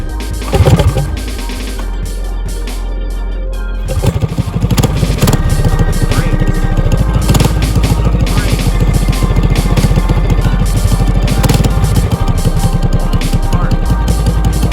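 A go-kart engine is heard near and loud, starting with a steady running note and then rising into a harsh, clattering acceleration as the throttle opens, holding strong for the rest of the clip.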